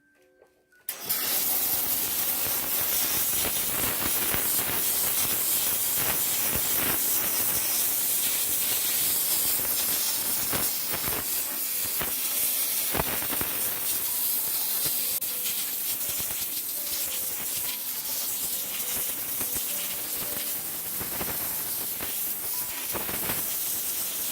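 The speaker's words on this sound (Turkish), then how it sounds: "Evet buhar temizleyicinin hortumlu başlığını kullanacağım sevgili arkadaşlar." A Kiwi steam cleaner with a hose nozzle blasts steam onto a home radiator, a loud, continuous broadband hiss with small crackling bursts that runs unbroken for over twenty seconds, no voices.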